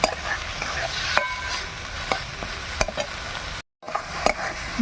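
Grated coconut and spices fried in a pan while being stirred, a continuous close sizzle broken by sharp scrapes of the spatula against the pan and one brief dropout near the end, with no talking.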